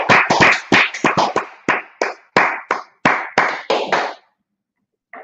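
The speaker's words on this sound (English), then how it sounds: "Let's clap it up." A group claps together at a Tuesday night brotherhood class, loud, close, irregular bursts of claps for about four seconds that then stop abruptly.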